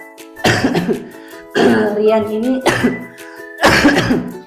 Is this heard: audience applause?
no